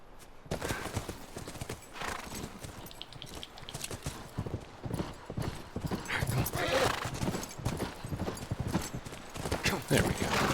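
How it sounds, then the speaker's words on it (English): Horse hooves clip-clop steadily in a video game, a busy rhythmic trot with a few whinnies, close and fairly loud over game sounds and occasional talk. "Come on, back to the horses."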